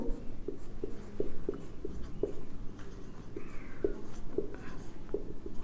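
Pen marking out an accounting entry for closing an accrued expense through the income summary account, giving a soft scratchy stroke and several light taps, close and alone with no talking.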